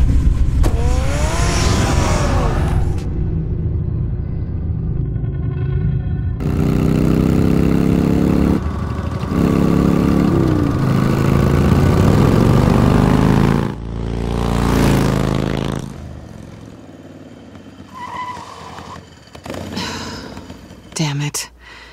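A car in Batman: The Telltale Series starts and drives off, a loud engine roar rising and revving across several bursts, shifting pitch as it accelerates, with game music and voices mixed in.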